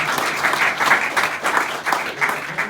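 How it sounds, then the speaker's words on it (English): Applause from an audience at a business talk, steady clapping swelling in waves and holding at a fairly loud level throughout, with no voices over it. "Can you please thank yourself and give yourself a big applause?"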